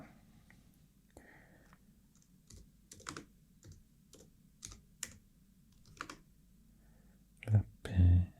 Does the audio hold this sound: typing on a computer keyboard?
yes